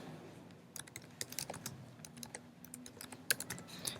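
Fingers type code on a computer keyboard in irregular bursts of quiet, close key clicks and taps, with no talking.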